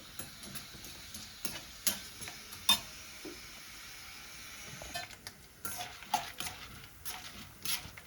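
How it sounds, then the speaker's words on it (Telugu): Raw peanuts frying in a pan while being stirred, heard as a quiet scrape and clatter of utensil against the pan with brief knocks over a faint low sizzle, no voices. "పచ్చెనగపప్పు ఫ్రై చేసుకుందాము. మంచిగా గోల్డెన్ బ్రౌన్ కలర్ వచ్చే వరకు ఫ్రై చేయాలన్నమాట."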